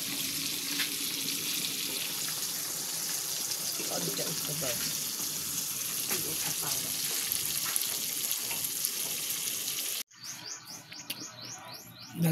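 Fish frying in a pan of cooking oil, a steady crackling sizzle that runs continuously for about ten seconds before cutting to a quieter, different scene with faint chirps.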